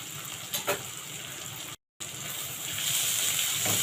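Garlic added to softened onions in a hot pan, a steady bright sizzle and frying crackle throughout, briefly cut out, then growing louder and fuller toward the end.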